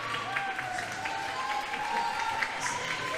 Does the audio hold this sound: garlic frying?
no